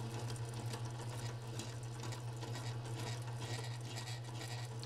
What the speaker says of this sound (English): Reduce the speed of the KitchenAid while you're incorporating the syrup.